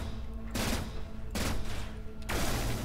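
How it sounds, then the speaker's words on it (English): A railgun fires in the video game Cryptark, three sharp bright bursts spaced about a second apart over a steady low game background hum. "the railgun instantly fires"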